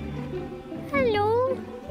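A cat gives a single clear, rising-and-falling meow at close range, surrounded by light background chatter and room noise.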